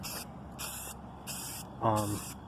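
An aerosol can sprays primer onto a drill press part in four short hissing bursts at an even rhythm, close up, with a brief clunk near the end.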